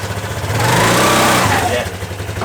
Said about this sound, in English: Now actually it revs a bit.